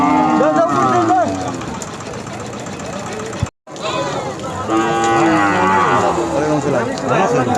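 At the Aricha cattle market, a cow kept with her calf lets out loud, drawn-out moos close by. People talk over the noisy market background, and a short silent break falls midway.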